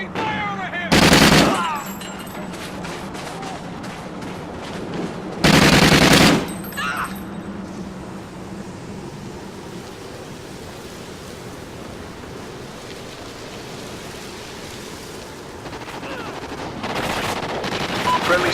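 Bursts of machine gun fire in a video game, two loud broadband bursts early on, then a quieter noisy stretch with a rising wash near the end.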